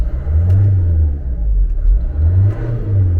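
A Renault Trafic diesel engine with a heavily blocked particulate filter revs up twice, each swell a loud, close rumble that rises and falls back toward idle between the bursts.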